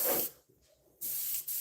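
Airbrush spraying Badger primer in short hissing bursts, one near and loud at the start, then a pause and a longer steady spray with a brief break.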